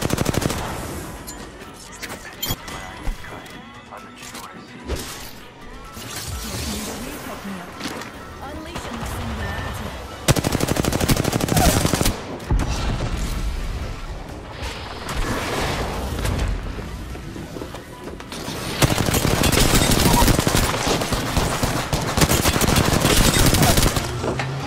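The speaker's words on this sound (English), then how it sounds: "Those charged sentinel shots really hit hard." Apex Legends combat carries booming gunfire, heavy rifle shots and rattling bursts among other battle sounds, loud and close, with a voice talking across much of it.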